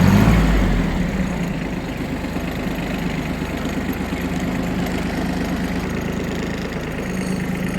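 A Kubota A-13 Aste mini tractor reverses slowly in low gear, its small diesel engine running steadily with a close, even, low-pitched rumble and no talking.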